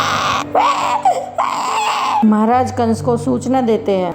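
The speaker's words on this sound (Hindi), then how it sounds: "ये तो बच्चे के रोने की आवाज है।" A newborn baby wails in loud, repeated bursts of crying, the sobs rising and falling close by, while a narrator speaks over the first part.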